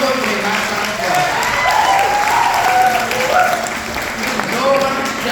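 Sustained audience applause fills a live bluegrass show at a music camp, a steady dense wash of clapping from a crowd with some cheering and voices mixed in, holding level throughout.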